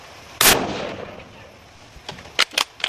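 A single loud, sharp Winchester .243 rifle shot fired at an anvil cracks out close by, then a few fainter knocks and clatters follow.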